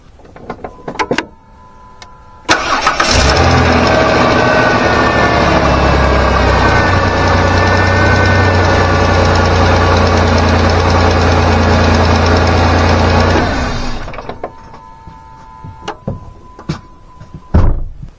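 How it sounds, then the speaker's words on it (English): Engine of a Dodge Grand Caravan with a 3.8 V6 cranks, catches and runs for about ten seconds with a steady loud rumble up close, then shuts off, leaving scattered clicks and clunks. "We're gonna start and run the engine until we get full oil pressure"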